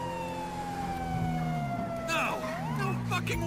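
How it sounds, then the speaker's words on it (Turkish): A wailing police car siren in the video game GTA 5, a loud sweeping tone that dips and rises again over engine rumble, with a voice talking over it. "Sirenimi yaktım da."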